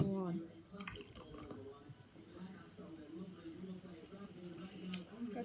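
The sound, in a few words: pouring Pepsi Max Cherry into a glass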